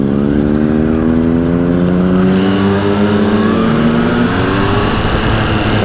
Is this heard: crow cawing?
no